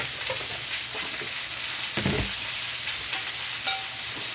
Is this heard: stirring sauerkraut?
yes